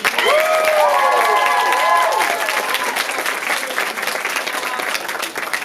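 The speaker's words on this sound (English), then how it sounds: "Please, one more round of applause." An audience at a full musical theatre performance breaks into loud applause and cheering, with whoops over the first two seconds, then settles into steady dense clapping that carries on to the end.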